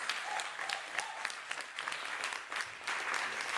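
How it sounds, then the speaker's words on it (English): Loud, steady audience clapping fills a small poetry-reading venue for the whole stretch, dense and continuous with no talk over it. "So if we can clap loud enough to let her hear, she allows us to do this for free."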